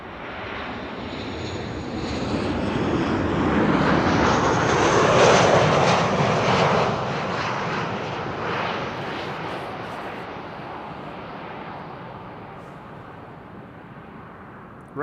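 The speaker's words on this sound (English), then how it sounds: "there's a PC-24, Pilatus PC-24, on the glide slope to runway 36 right" A Pilatus PC-24 business jet on its glide slope to runway 36 right at Amsterdam Schiphol makes a steady, broad roar that swells to a peak at mid-length and then slowly fades as it passes, with no voices over it.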